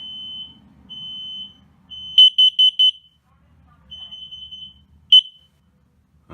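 Repeated electronic alarm beeps in short bursts, a steady high tone with a low hum beneath, from a combined smoke and carbon monoxide alarm in an RV trailer, with a voice warning: "Fire. Warning, carbon monoxide."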